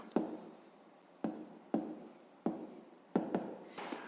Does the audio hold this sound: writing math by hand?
yes